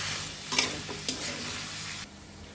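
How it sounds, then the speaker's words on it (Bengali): Vegetables coated in turmeric and spice paste are stir-fried in a pan. A continuous sizzle carries a few spoon scrapes and clinks early on, then the frying noise drops off abruptly just after two seconds. "সামান্য পরিমাণে হলুদের গুঁড়ো সবজিগুলো ভালোভাবে মশলার সাথে মাখিয়ে কষিয়ে নিতে হবে"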